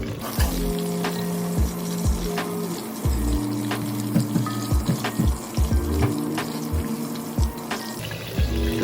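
Green chilies sautéing in hot oil for biryani, a steady close sizzle and crackle with scattered clinks and scrapes of stirring throughout, no talking.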